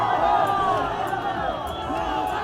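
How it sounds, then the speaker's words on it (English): A dense crowd of protesters in Afghanistan, angry over election voting fraud, shouts slogans for Abdullah at a rally: loud, continuous massed voices with overlapping shouts near and far. "They're shouting, long live Abdullah, long live the Mujahideen, death to Amarkhail"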